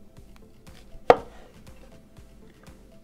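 A knife slices through a whole cauliflower to cut a half-inch-thick steak, one sharp crunching chop standing out against quiet board taps and faint background noise, close up with no talk.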